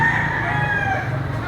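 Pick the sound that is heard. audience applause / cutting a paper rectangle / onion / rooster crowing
rooster crowing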